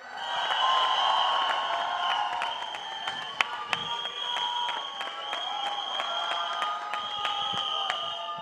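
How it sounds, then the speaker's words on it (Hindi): A crowd applauds and cheers at the Singham Again trailer launch as an actor is welcomed. The applause is loud and sustained, with sharp claps and a few shouts rising out of a dense, steady roar. "एक बार जोरदार तालियां."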